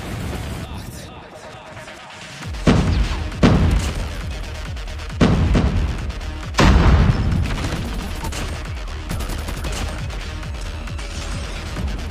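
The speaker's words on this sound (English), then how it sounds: "Friendly airstrike incoming." Airstrike explosions in a Call of Duty game land as four heavy booming blasts a second or two apart over a constant rumble of battle noise.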